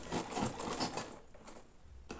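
A sewing machine stitching three layers of fabric collar pieces, a quick rapid mechanical chatter for about a second that then fades to quiet, with a brief click at the end.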